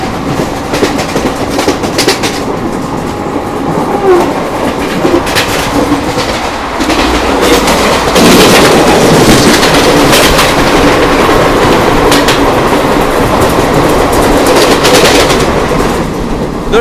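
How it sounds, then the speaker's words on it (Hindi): A Durg Jammu Tawi Express on Indian Railways rolls past close by, a loud sustained rumble with rhythmic clickety-clack of wheels over rail joints throughout. "दुर्ग जम्मू तवी एक्सप्रेस"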